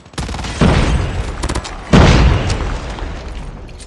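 Loud, close frag grenade blasts in Call of Duty Mobile, two heavy booms with rolling decay amid scattered gunfire cracks.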